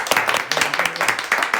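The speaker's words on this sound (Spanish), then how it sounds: "un aplauso para darle a los chicos" Clapping from a small group at a Spanish-language gathering, quick scattered hand claps close by and moderately loud, lasting under two seconds.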